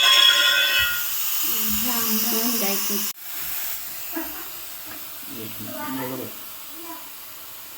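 Pressure cooker cooking duck meat, releasing a loud steam hiss that cuts off abruptly partway through, followed by quieter kitchen sounds with a voice talking faintly.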